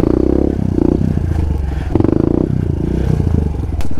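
A motorcycle engine chugs and rattles close by, with clattering and scraping as it bumps over uneven ground; no talking.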